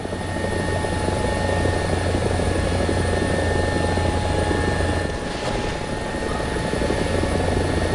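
A Russian Mi-24 Hind attack helicopter in War Thunder, with a loud steady rotor and turbine drone throughout a sharp turn and a brief dip in intensity partway through.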